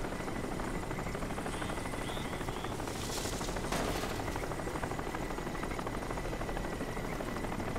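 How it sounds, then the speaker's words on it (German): Helicopter rotors chop steadily and loudly while chasing the player in the video game Crysis, a constant thudding drone with a brief whoosh partway through and no talking. "ich werde schon wieder vom Heli verfolgt"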